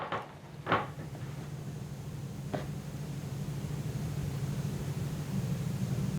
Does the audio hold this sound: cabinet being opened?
yes